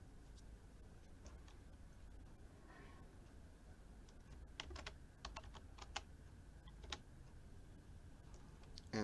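Keys tap on a computer keyboard while entering data into an Excel spreadsheet, in short quiet bursts of clicks that are sparse at first and then cluster together, close but faint.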